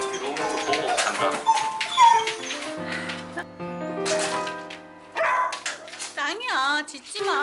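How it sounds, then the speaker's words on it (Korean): An Alaskan Malamute, a large dog, whimpers in high drawn-out whines and gives a few barks as a welcome visitor arrives, while people talk over it nearby. "짱이야, 짖지 마."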